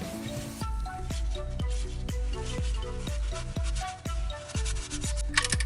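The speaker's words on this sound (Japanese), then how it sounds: "それではドレンプラグから締めていきます。" An oil drain plug on a Volvo XC60 is tightened with a ratchet, giving about a dozen even, close clicks in a steady rhythm, followed by a few sharper scrapes at the end.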